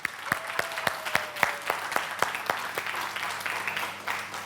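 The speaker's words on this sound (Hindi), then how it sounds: "तालियां बज रही थी. एक बार फिर से हो जाए" Audience applause at a healing summit event, with loud distinct claps near the start over a dense sustained clatter of many hands, staying steady throughout.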